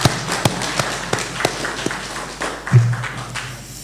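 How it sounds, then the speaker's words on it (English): Conference audience applauding, with sparse, uneven claps and taps close by, a few louder hits, and a low hum underneath. "A hand of applause once again."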